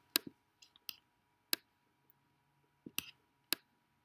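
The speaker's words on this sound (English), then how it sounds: "I'm going to grab my calculator, and we're going to type that into y equals" Plastic calculator buttons are tapped in a sparse, irregular series of small sharp clicks, close and quiet, with pauses between the presses and no talking.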